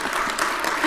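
Brief burst of audience applause at a county State of the County address, a dense steady patter of clapping for under a second.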